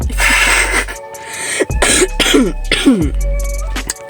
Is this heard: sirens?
no